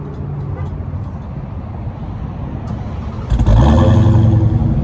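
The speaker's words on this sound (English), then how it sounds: "People all over love the startup of a Hellcat." A Dodge Charger Hellcat Widebody V8 engine fires up and roars loudly, settling into a heavy, rumbling idle close by.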